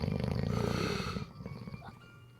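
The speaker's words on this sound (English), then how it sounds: "Someone's snoring." A person snoring, a couple of deep rasping breaths heard close up and fairly faint, the first long and rumbling, the second shorter and softer.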